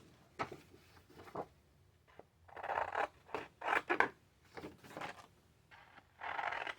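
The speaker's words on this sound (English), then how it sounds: "we're going to cut out our 21 and 22." Scissors snip through paper while cutting out printed numbers: a quiet, close series of crisp cuts and rustles arriving in short bursts, with no talk.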